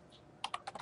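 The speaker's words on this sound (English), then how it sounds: "and we will be typing in" A short burst of quick, close keystrokes on a computer keyboard while a graph axis title is entered, about five crisp taps after a brief quiet start, with no speech.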